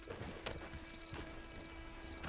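Horse hooves clip-clopping in an irregular rhythm, faint and somewhat distant under a steady noisy background, with no talk.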